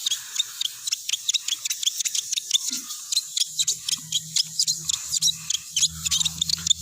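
Rapid, rhythmic high-pitched squeaks from an applicator pad rubbing ceramic coating across a car headlight, repeating steadily and close up, with a low hum joining partway through.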